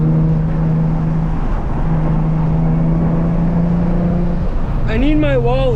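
A Nissan 350Z engine drones steadily with a low, even tone while the car rounds a turn, up close from inside the cabin, with a rising whine near the end.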